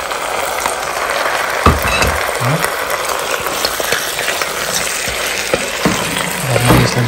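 Chicken pieces fried with already-browned onions for a curry, with a loud, continuous sizzle close by and scattered spatula scrapes and clinks against the pan, no voices.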